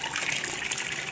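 Tap water gushes steadily to fill a small bath for a pet ferret, a soft, even rushing hiss that runs briefly without any talk over it.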